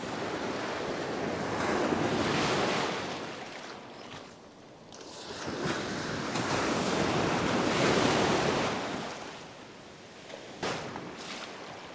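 Ocean surf breaks on a fishing beach in swelling surges, rising and falling over several seconds with wind buffeting the microphone, loud and close with no talking.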